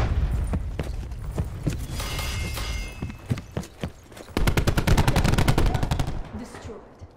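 Gunfire in the video game Call of Duty: Black Ops 4: scattered sharp single shots, then a long rapid automatic burst, loud and close, mixed with game voices.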